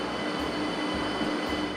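A train at Linz main station, reserved for school children, fills the clip with a continuous loud rumble and hiss, with faint metallic squeals rising briefly above the steady roar.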